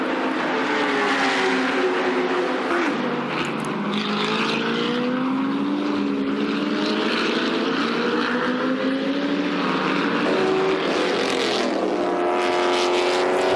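Several Chevrolet Lumina V8 race cars drive at speed on the Bahrain circuit. Steady, loud engine drones with gliding pitch sweep past one after another, sounding alone with no voices.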